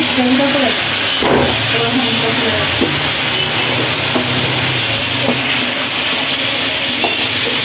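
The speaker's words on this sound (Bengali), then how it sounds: "আমি সবজিটা দিয়ে দিচ্ছি" Vegetables with potatoes fry in a pan with a loud, steady sizzling hiss, broken by occasional soft scrapes and knocks of stirring.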